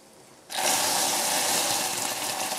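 Water poured into hot caramel for a powdered-milk pudding bursts into loud, steady sizzling and hissing that starts abruptly and holds at full strength, with no talk over it.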